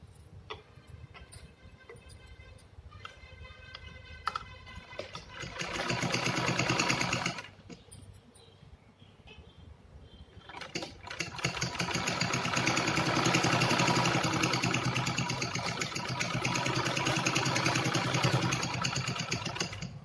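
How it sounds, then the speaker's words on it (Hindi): A sewing machine runs in bursts while stitching a fabric organizer made from reused cloth pieces, a steady mechanical whir with a short pause midway before a longer, louder continuous run. "इस तरह से इसको ऐसे हमने सिलाई लगा लेनी है"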